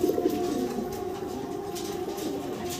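Fancy pigeons coo in soft, repeated, throaty murmurs that run close and steady throughout.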